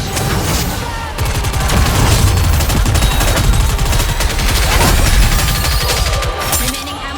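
Loud, dense video-game gunfire from a NIKKE battle: rapid continuous bursts of shots with heavy impacts, filling the scene almost without pause.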